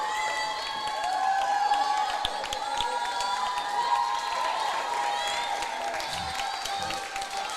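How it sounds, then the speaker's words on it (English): Spectators in the bleachers of the Marshfield Fieldhouse applaud and cheer during a high school swimming meet, a continuous roar of clapping and shouting echoing through the indoor pool hall, steady throughout. "a big round of applause here in the Marshfield Fieldhouse"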